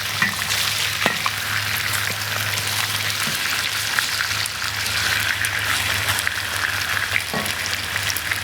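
Pork belly slices stir-frying in a hot pan, a dense continuous sizzle with occasional spatula scrapes and clicks, close and loud, no talking.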